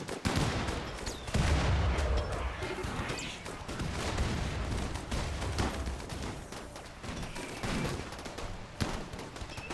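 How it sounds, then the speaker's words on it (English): Rockets and explosions go off in the video game RimWorld during a raid battle: dense, continuous bursts of gunfire-like cracks and booms, loud and sustained, with heavy low rumbling blasts throughout. "there's going to be some rockets that go off"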